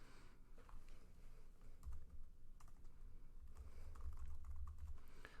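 Someone types a comment into a form on a computer keyboard: a close, steady run of soft key clicks with a few heavier thumps on the keys, and no voices.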